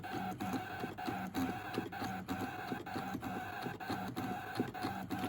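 A ScanNCut machine cutting and scoring card gives a steady mechanical whir with rhythmic clicking pulses, soft and close, running on without pause.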